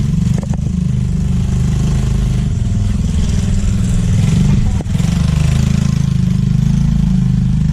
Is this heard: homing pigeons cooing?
no